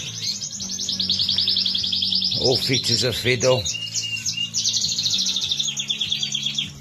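Norwich canary hybrids warble and trill continuously in a bird room, a bright layered chorus of many birds close by, with someone speaking briefly in the middle.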